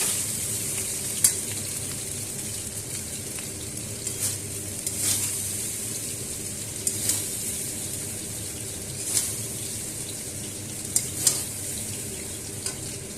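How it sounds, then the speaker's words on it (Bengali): Fried rice, just salted, is stirred and mixed in a hot pan: a continuous soft sizzle with periodic scrapes and clinks of the spatula against the pan every second or two, close and without talk. "এবারে এটাকে আমি ভালো করে মিশিয়ে নেব"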